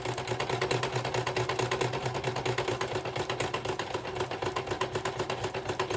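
A sewing machine runs a straight stitch through a paper ruffle, producing an even, rapid mechanical chatter that stays steady and close throughout, with no voices.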